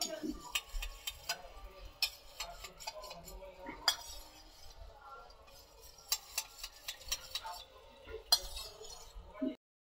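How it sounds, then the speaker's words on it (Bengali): Sauces are whisked with vinegar and pepper powder in a bowl, giving quick, rhythmic clinks and scrapes of a utensil against the dish, close and fairly quiet, with short pauses between bursts. "এটাকে ফেটিয়ে নেবো একসঙ্গে, সসগুলোকে ভিনেগারের সঙ্গে সব"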